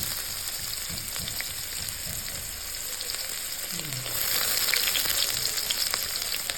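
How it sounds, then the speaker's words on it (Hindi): Onion frying in hot oil, a steady crackling sizzle close by with soft stirring scrapes, growing a little louder and brighter midway. "अभी मैंने तेल लिया, तेल गरम होने को छोड़ दिया। अभी मैंने कांदा डाला।"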